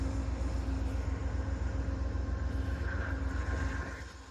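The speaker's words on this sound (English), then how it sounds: "The train has made it to Omaha." A train pulls into Omaha in the early morning, giving a steady low rumble with a faint tonal hum that eases off at the end.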